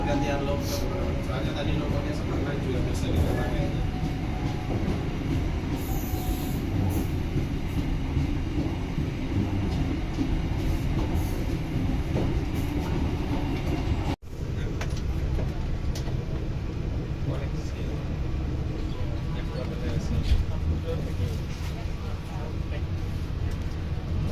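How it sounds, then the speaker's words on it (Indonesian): The Cikuray passenger train rumbles steadily with a broad, continuous roar of wheels and carriage noise, people talking faintly underneath, as it slows into Purwakarta station. "pada jam 7:12 kereta api Cikuray berhenti di stasiun"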